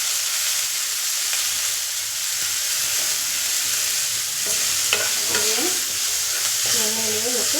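Tomatoes sautéing in a pan with sambar powder and turmeric, a steady sizzle and hiss with stirring scrapes, and faint tonal sounds near the end.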